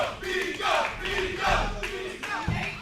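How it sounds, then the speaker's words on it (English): A wrestling crowd at an AAPW show roars and cheers wildly for Pico, a loud, dense, continuous wall of voices that swells and surges in waves throughout. "Listen to this crowd. They are going crazy for Pico."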